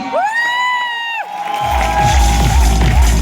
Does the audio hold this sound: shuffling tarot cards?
no